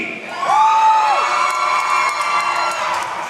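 A wrestling crowd screams and cheers in an arena, a loud, sustained roar with a shrill whistle-like shriek rising over it early on.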